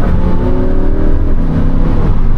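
A Lamborghini Huracan's engine revs loud and steady from inside the moving car, a deep continuous growl with rising and falling harmonics and no talk over it.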